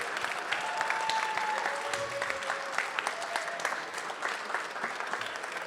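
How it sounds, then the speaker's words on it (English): An audience at a bartender competition final applauds the finalists with steady, moderately loud clapping, while a few voices and a brief melodic tone sound over the crowd. "So please, guys, one more round of applause for our finalists."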